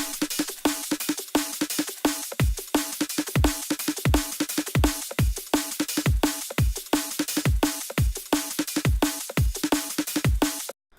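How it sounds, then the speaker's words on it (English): A compressed, layered drum loop drives a dense, energetic groove, with kick, snare and extra percussion layers packed tightly into a steady, loud, continuous pattern before it stops abruptly at the end. "And then together they sound like this with the compression."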